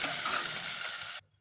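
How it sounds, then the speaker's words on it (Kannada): Finely chopped onion fries in hot oil with cumin seeds in a pan, a dense close sizzle with faint stirring that cuts off abruptly after about a second. "ಸಣ್ಣದಾಗಿ ಹೆಚ್ಚಿರುವಂಥ ಈರುಳ್ಳಿ ಸೇರಿಸ್ಕೊಂಡು ಫ್ರೈ ಮಾಡ್ಕೊಡ್ತೀನಿ."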